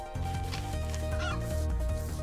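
In the video game The Adventure Pals, a chicken clucks in short, bright bursts over continuous game music, with no voices.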